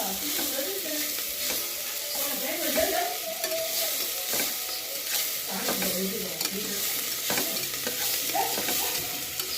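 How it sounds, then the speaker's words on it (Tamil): Curry leaves sauté in a pan for spinach stem soup, a continuous close sizzle and crackle with soft stirring scrapes, steady and moderately loud with no voice over it. "கருவேப்பிலை, சேர்க்குறேன். இது நல்லா வதங்கணும்."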